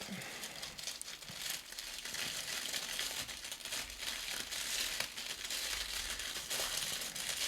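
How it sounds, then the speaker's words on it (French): Crinkly wrapping being torn open around a parcel of small cookies and a mushroom-themed oracle deck, a dense, steady rustle and crackle of paper or plastic that runs throughout, close and continuous with no voices. "on va le déballer ensemble"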